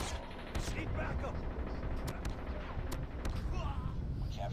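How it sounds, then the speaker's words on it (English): Gunfire in a Call of Duty Mobile Domination match, sharp repeated shots cracking in bursts over continuous battle noise, with voices talking throughout. "we were both shooting at each other and got me toward the end there"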